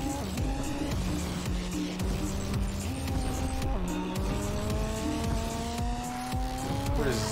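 A McLaren car drives in the Fortnite video game, its engine droning steadily and climbing in pitch through several gear shifts, loud and continuous with no voices over it.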